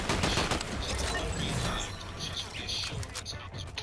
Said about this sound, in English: Somebody's further back. They're shooting at me.